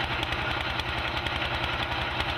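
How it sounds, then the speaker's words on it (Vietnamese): Motorboat engines on a fleet of mussel-fishing boats from Xóm Hến, Bình Định, leaving the dock on Vietnamese canals: a steady, loud, throbbing drone with a rapid low pulse, continuous with no pauses. "đoàn ghe của xóm Hến Bình Định đã bắt đầu rời bến"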